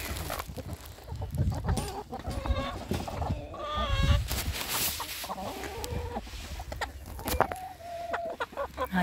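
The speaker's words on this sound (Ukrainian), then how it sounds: "Ось це курочка Фавероль." Faverolles hens cluck and cackle in a farmyard, several birds calling close by in repeated rising bursts over a busy background of rustling and other noise.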